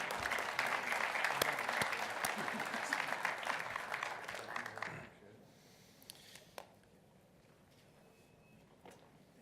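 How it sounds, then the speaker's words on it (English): A general-session audience gives sustained, dense applause for gold-tier alarm and security sponsors, lasting about five seconds before dropping sharply to quiet room tone with a couple of stray claps. "If we could please give a round of applause for our gold sponsors."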